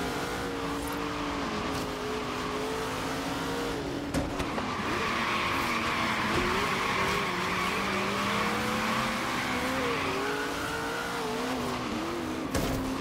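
A Ford Raptor drifting in a racing video game: a long, loud tire squeal that wavers over a steady engine drone, with revs shifting and brief skids and knocks across about thirteen seconds and no talk.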